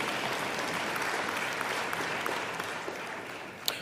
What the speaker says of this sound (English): you can applaud for BC on that one